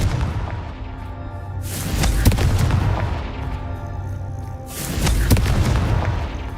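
Blasts of the Confringo fire spell in the video game Hogwarts Legacy: two heavy booming explosions about three seconds apart, each a loud broadband burst rolling over a steady rumbling game background.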